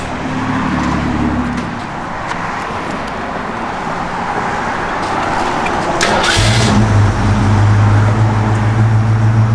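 A 1965 Ford Falcon Convertible engine idles steadily, then settles into a louder, deeper running hum near the microphone, with no voices.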